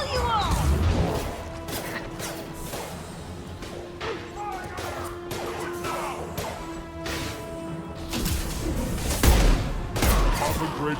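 Heavy gunfire in the video game Mass Effect 2: sharp, loud impacts and bursts break out at the start and again near the end, with voices talking over the combat in between.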